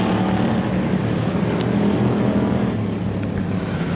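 Pure Stock cars race around a track in a heat and feature, a continuous loud roar of engines rushing past with steady droning intensity.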